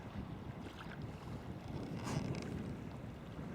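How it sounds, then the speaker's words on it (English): Faint wind gusting around a coastal corner near Elgol on Skye during sea kayaking, a low muffled rush with a brief swell in the middle, quiet and steady with no speech. "Yeah, it's wrapping round that corner now, that wind."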